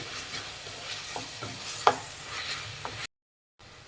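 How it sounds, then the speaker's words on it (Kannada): Tomatoes with salt fry until soft in a pan for tomato masala rice. A soft, constant sizzle is broken by several close stirring scrapes. The sound cuts out briefly near the end, and no one speaks. "ಟೊಮೆಟೊ ಮೆತ್ತಗಾಗೋವರೆಗೂ ಫ್ರೈ ಮಾಡಬೇಕಾಗುತ್ತೆ"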